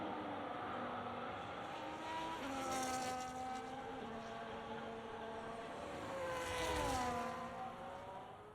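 A Ferrari race car in a racing game on a long run at Bahrain pre-season testing, its high engine note rising and falling through gear changes, steady and moderately distant, with no talk.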